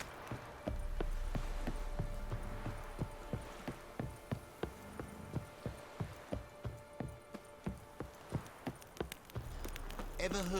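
Roach the horse galloping in the video game Witcher 3, a steady run of rhythmic hoof clip-clops close up, with faint ambient insect buzzing behind and a voice talking at times.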